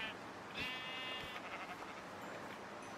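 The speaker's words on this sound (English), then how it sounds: "Oh, sheep." A sheep bleats in a Minecraft game, one short wavering bleat early on, followed by softer game sounds and a faint second call.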